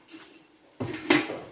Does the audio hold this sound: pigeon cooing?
no